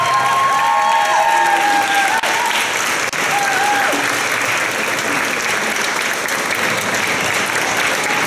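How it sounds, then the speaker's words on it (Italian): Sustained applause from a crowd in a church after a musical fills the whole clip, steady and dense, with a few faint voices and whistle-like tones mixed in. "un ultimo applauso veramente a Luca, Luca e Simona, perché è merito soprattutto loro."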